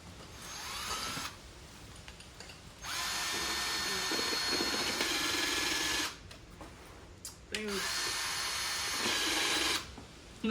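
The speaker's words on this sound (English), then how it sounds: "That definitely is a drill." A power drill whirs in two long bursts with a short pause between, close and steady, against quiet room background, during boost leak repairs on a 1000 hp Toyota Supra.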